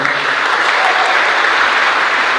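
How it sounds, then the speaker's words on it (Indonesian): A crowd at a church youth service breaks into steady, dense applause, a loud, even wash of many clapping hands that holds without a break. "Tepuk tangan untuk anak-anak muda yang luar biasa."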